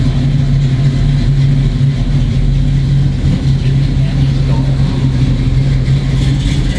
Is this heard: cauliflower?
no